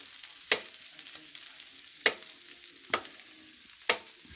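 Onions sauté in a pan with a soft, low sizzle, broken by a few sharp clacks as a utensil stirs them at intervals, with no talking.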